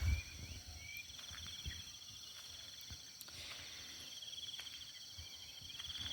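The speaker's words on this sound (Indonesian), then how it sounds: "suara jangkrik, suara burung, suara kodok ada ya, komplit di sini mah" Steady high crickets chirping outdoors in a village garden with occasional bird calls and soft low frog croaks, a continuous quiet night-like chorus with no talking.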